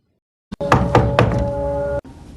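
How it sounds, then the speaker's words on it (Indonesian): A house door is knocked on in a school drama production, with three firm, close knocks over a steady hum and no talking. "Saat sedang berbincang, tiba-tiba pintu rumah Sundari ada yang mengetuk"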